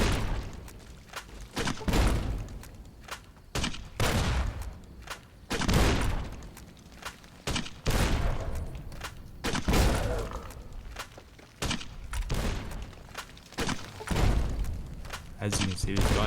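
Grenades going off in Fallout New Vegas as a string of repeated thumping blasts and gunfire spread through a fight, loud and irregular, with someone talking between and over the explosions.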